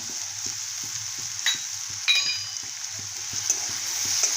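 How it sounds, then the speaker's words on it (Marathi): Papad curry sizzles steadily in a pan with turmeric and garam masala while a spoon stirs and scrapes it in quick regular strokes, close and fairly loud, with no talking. "हे असं मस्त परतून घेते मी"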